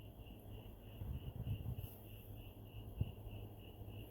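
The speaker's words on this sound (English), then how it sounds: "I just love the sound of those crickets." Crickets chirp at night in a backyard, a faint steady high trill running throughout with soft low background rumbles and a small bump near the end.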